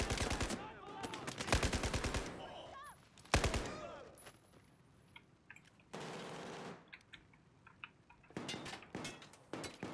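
Automatic gunfire bursts from above in the video game Battlefield 4, loud rapid rattles in several clusters with quieter gaps between them and faint battlefield noise underneath.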